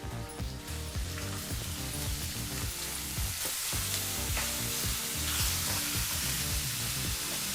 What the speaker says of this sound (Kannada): ಈರುಳ್ಳಿನ ಬಹಳ ಚೆನ್ನಾಗಿ ಫ್ರೈ ಮಾಡ್ಕೋಬೇಕಾಗತ್ತೆ ಸರಿಸುಮಾರು ಐದರಿಂದ ಆರು ನಿಮಿಷ ಆಗ್ಬೋದು ಮೀಡಿಯಂ ಫ್ಲೇಮ್ನಲ್ಲೇ